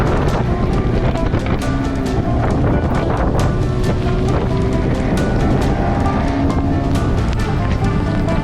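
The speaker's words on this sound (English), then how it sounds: "It's a little breezy. It's like gusting to 25 right now." Strong gusting wind roars steadily across the microphone on a sailboat in the Abacos, a loud continuous rushing blast with water and boat noise underneath.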